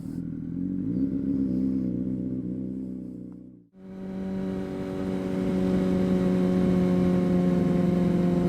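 A 2006 Honda CBR600RR motorcycle engine idles with a steady rumble, cuts out briefly, then restarts and settles into a loud, even idle close by.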